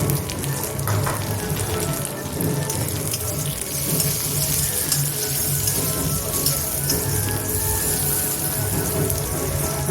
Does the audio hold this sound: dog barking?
no